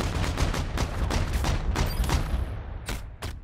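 Rapid bursts of first-person shooter gunfire, a dense run of repeated shots for most of the stretch, then a short pause and two final loud cracks.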